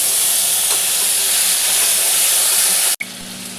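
Onion juice poured into a hot pan of oil for a bhetki fish curry sets off a loud, steady hiss that holds, then breaks off sharply and returns briefly toward the end.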